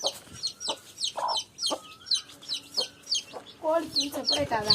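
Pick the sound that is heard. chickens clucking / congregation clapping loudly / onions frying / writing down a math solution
chickens clucking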